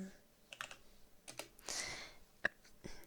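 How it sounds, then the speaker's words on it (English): Quiet, close computer keyboard typing during a late-night ASMR stream, a handful of scattered soft key clicks in irregular bursts with small pauses between them. "I'm typing in my own chat like a madman"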